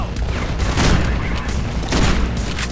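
Heavy gunfire from a weapon in the video game Mirror's Edge, a loud dense burst of rapid shots in two close waves, booming and continuous, with no talk over it.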